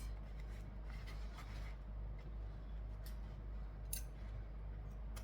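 Scissors snip through vinyl tails during a craft project, a series of light cutting scrapes and snips over a steady low hum.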